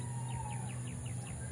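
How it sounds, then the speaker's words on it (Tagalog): Small birds chirp outdoors in an open field, a series of short repeated high calls spaced evenly over steady background hiss and low ambient hum. "naririnig natin guys yung mga tunog ng ibon dito guys"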